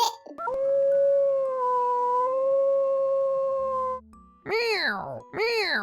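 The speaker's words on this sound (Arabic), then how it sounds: "عواء الذئب" A wolf howls in one long, sustained, wavering tone lasting several seconds, close and clear. Two sharp bark-like yelps follow at the end.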